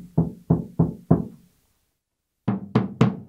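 Kick drum fitted with Remo Ambassador heads and internal muffling, tuned for a classic 1970s sound: four even, punchy thumps, a pause, then three more strikes at a brighter pitch, close and dry with no voices.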